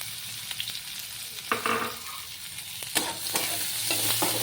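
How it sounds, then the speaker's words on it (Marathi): Chopped onions fry in oil already used for frying dried Bombay duck, making a steady sizzle broken by several sharp spoon scrapes and clacks against the pan. "कांदा गुलाबी रंग येईपर्यंत तळून घेऊया"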